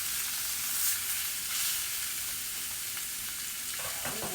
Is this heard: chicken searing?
yes